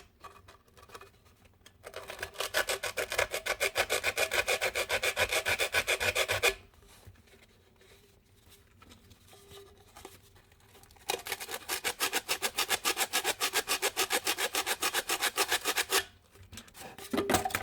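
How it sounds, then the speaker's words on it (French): A nail file rasps against a cardboard Pringles tube in steady, rapid back-and-forth strokes. There are two long bursts of close scraping separated by a quiet pause, with no talking. "j'ai la lime à ongles"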